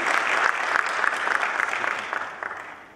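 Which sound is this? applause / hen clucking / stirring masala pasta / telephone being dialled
applause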